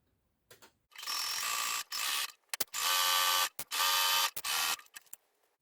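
A sewing machine runs a 3-stitch zigzag onto elastic in short bursts, whirring loudly for about a second at a time with brief pauses and light clicks between runs.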